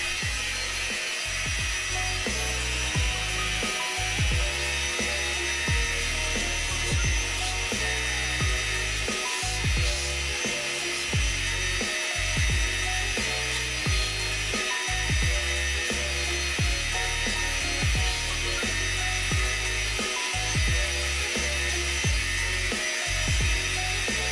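A belt grinder, worked on its corner and contact wheel, pre-shapes a Damascus steel knife with a steady, loud, bright grinding whine, broken by regular pulsing dips as the steel is pressed on and lifted, close and without talk.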